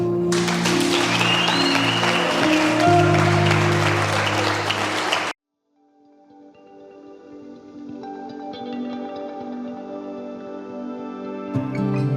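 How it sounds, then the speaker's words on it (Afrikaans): A church congregation breaks into vigorous applause for about five seconds over sustained music, then the clapping stops abruptly and quiet instrumental music carries on alone. "Kom ons gee die Here 'n hande klap."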